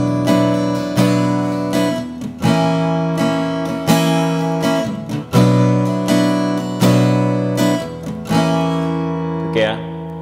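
Guitar strums alternate between two chords in a steady rhythm, playing the intro of a song; the close, bright strumming continues without talk.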